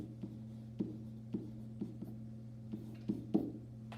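Chalk or marker taps and strokes on a board while a chemical formula is written, soft irregular ticks spaced a fraction of a second apart over a steady low hum.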